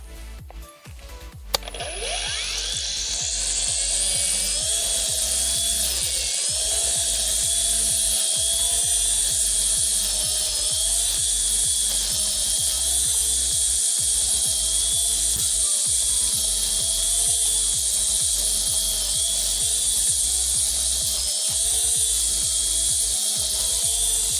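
A cordless Grand ATG-21 2-in-1 string trimmer runs on its nylon line, a steady high motor whine spinning up and holding loud and close while it cuts through tall grass, with no talking.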